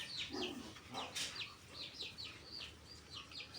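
Chickens cluck and chirp in short repeated bursts around a pig pen on a Philippine backyard farm, moderately near, with steady low background noise and no talk.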